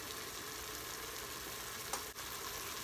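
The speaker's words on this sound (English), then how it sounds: "You want to brown them up until they're nice and translucent" Onions frying in a pan in a home kitchen, a constant close sizzle with a brief stir or scrape near the end and no voices.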